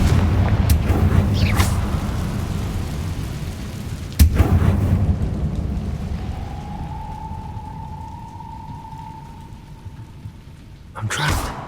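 Confringo blast curse explosion in Hogwarts Legacy, a sharp booming burst followed by rumbling, crackling debris that fades into a lingering hum, with another impact near the end.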